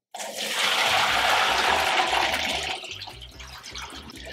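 Soaked lupini beans being rinsed under running water, a loud, steady gush of tap water with faint knocks and rattles underneath, easing slightly toward the end.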